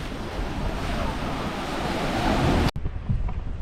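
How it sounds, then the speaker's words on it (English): Surf washes onto a beach near the Chittagong ship-breaking yards in Bangladesh, a continuous roar of waves mixed with heavy wind buffeting the microphone, cutting out briefly before resuming more quietly. "it's a lovely day at the beach here"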